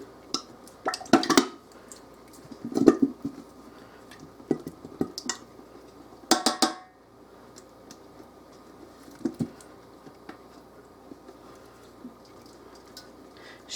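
Dry beans pour into a pot in two quick rattling bursts, followed by softer scattered clatters as they settle.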